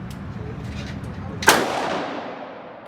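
A single sharp gunshot at an outdoor gun range, a loud close crack about midway through with a long decaying echo over steady background noise.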